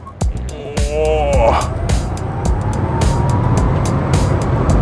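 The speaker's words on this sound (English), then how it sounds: "we just did a 0 to 100 test in the MG4 Xpower" MG4 XPOWER electric hot hatch launching in a 0-100 acceleration run: a rising whine with heavy road and wind roar fills the cabin, and a voice breaks in near the start over the steady rush.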